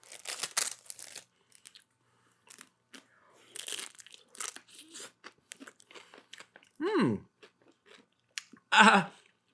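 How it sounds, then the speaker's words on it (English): Cold strawberry and vanilla ice cream chewed in a few brief, wet crunching bursts between pauses, close to the mic, with talk nearby. "Kind of hard to chew ice cream sometimes."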